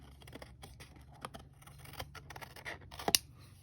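Scissors snipping away the rough edge of a handmade vintage sewing box, several soft, quiet cuts scattered across a hushed room, with a sharper, louder snip near the end.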